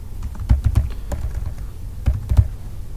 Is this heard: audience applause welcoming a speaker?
no